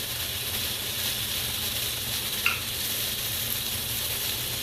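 About two tablespoons of butter sizzle steadily in a pan with onions and peppers, a constant close hiss with a single brief clink of a utensil midway and no voices.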